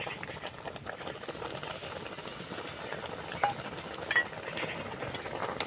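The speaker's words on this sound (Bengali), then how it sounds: "এবার আমি নাড়াচাড়া করে নেব" A spoon stirs dry rice flour into heated milk in a pan over medium heat, making a steady, close scraping and swishing with a couple of sharper knocks against the pan, and no voices.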